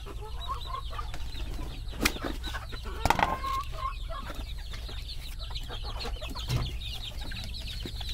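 Backyard chickens and young chicks cluck and peep while pecking at scattered feed, with scattered sharp calls and soft pecking taps over a steady low background hum.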